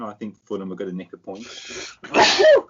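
Someone talks briefly, then after a short breath a single loud, close sneeze bursts out near the end.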